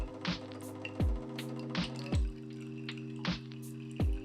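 An xBloom Studio pour-over coffee machine dripping water: a steady rhythm of distinct drops, roughly one each second, each a sharp little plop over a soft constant mechanical hum, close and fairly quiet.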